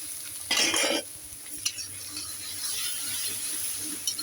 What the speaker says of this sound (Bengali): এই বাটারের মধ্যে দিয়ে দিচ্ছি রসুন কুচি